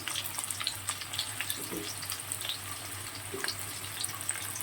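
Onion goes into a pan of frying potatoes for a soybean vegetable dish, and a steady soft sizzle continues throughout with small crackles and pops. The level stays moderate and close.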